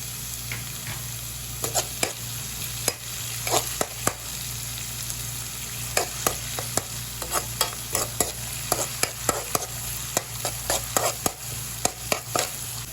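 Small pieces of chopped ginger and garlic frying in a pan for Gobi Manchurian, with a constant close sizzle and frequent sharp clicks and scrapes of stirring throughout.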